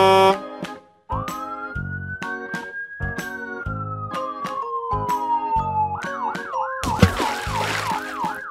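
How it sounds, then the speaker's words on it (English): A cartoon ambulance siren rises in a long slow wail, then switches to a rapid repeating yelp over bright, bouncy children's music with steady rhythmic beats; no voices. "White ambulance."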